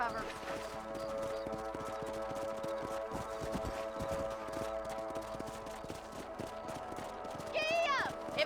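A horse gallops in the video game Red Dead Redemption, steady rhythmic hoofbeats on ground near a ranch, playing under a music bed, with a rising whinny-like cry near the end.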